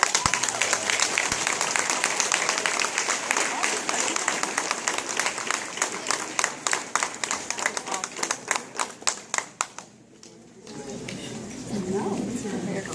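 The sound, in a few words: audience applause at graduation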